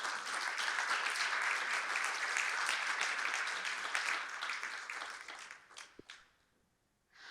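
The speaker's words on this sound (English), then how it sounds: "Everybody, another round of applause" A large audience gives a sustained round of applause, dense clapping that holds steady for several seconds before thinning out and fading near the end, with a single sharp clap standing out as it dies away.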